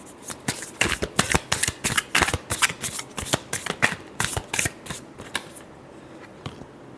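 Tarot cards are shuffled in quick, crisp riffling bursts, a dense run of close, sharp flutters that thins out and fades near the end, with no voices.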